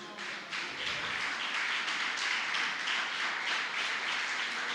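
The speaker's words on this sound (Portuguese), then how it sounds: "Se assente, aplaudindo a Jesus pela sua palavra." A church congregation applauds in steady, dense clapping that fills the whole stretch at a fairly low level, many hands at once with a faint pulsing rhythm and no voices over it.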